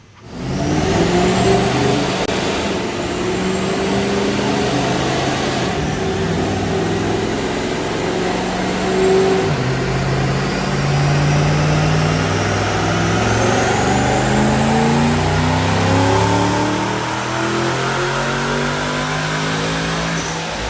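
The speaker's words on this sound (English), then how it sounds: "So we're gonna go out and watch a dyno pull, 93 octane, and it's the 2200 with nothing but a set of long tubes." A 2005 Ford Mustang GT 3V automatic with a Paxton Novi 2200 supercharger and long-tube headers runs a dyno pull on 93 octane, its engine droning loud and steady as revs climb through the gears with supercharger whine.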